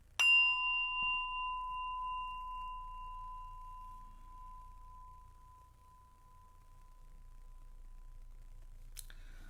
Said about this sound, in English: Closing bell.